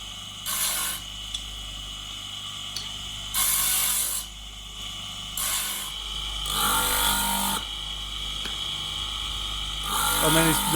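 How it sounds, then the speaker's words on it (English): A saw cuts a groove into the middle of recycled brake pads at a workshop in Pakistan, producing several loud bursts of harsh grinding, each lasting about one to two seconds, over a steady background hum. "And then he's putting the saw cut in the middle of them"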